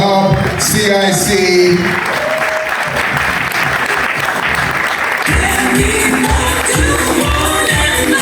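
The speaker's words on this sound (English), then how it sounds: "Round of applause to Elite Hub CIC." Sustained applause from an awards ceremony audience celebrating a winning organisation, loud and steady throughout with scattered crowd murmur mixed in.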